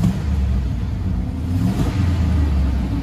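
A 2004 Chevrolet Silverado 2500HD pickup idles and revs with a loud, steady, deep engine rumble, close by and continuous, rising slightly in intensity partway through with no speech.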